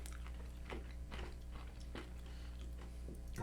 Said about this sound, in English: There's some ASMR eating sounds.